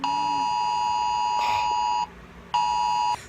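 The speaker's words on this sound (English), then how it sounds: "And we get these warnings on our cell phones." A cell phone emergency alert tone for a tornado warning blares as a loud harsh beeping tone, sustained for about two seconds, a brief pause, then another short burst.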